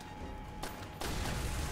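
Explosive charges detonate in the PC game Call of Duty: World at War, two sudden booming bursts in quick succession that leave a noisy rumbling wash behind them.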